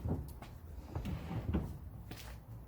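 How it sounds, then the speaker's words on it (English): A full-extension, 71-inch slide-out drawer in a family van is pulled open, making a series of faint knocks and rumbling slides. The sound is quiet and close, with no one talking. "both of these drawers are complete full slide out. They are 71 inches long. So this one comes out."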